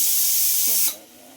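Onions and tomatoes fry loudly in hot oil for butter paneer masala, a steady close hiss and sizzle that cuts off sharply near the end, leaving only a softer background.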